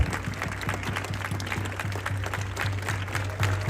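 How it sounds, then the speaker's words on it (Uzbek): An audience claps at a ceremony where a prize, a three-room apartment, is handed to Javohir Sindarov. The applause is steady and moderately loud, and it continues without a break under a low, constant hum. "Olqishlab turamiz azizlar."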